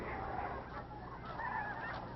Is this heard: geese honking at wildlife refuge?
yes